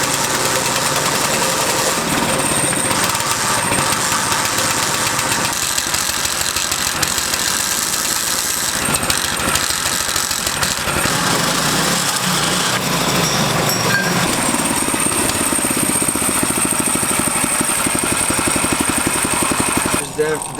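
The gas engine of a homemade gas/electric hybrid trike runs steadily and loudly, a close, buzzing, slightly knocking drone that holds throughout, with a loose alternator pulley, before cutting out at the end.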